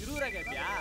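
A telephone rings with a short electronic trilling tone, wavering up and down, heard close beside a voice talking over it.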